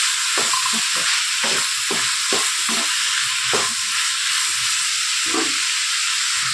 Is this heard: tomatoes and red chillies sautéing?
yes